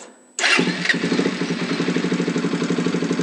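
A SWM Ace of Spades 125cc motorcycle engine cranks over and catches after a brief pause, then settles into a steady, close, evenly pulsing idle.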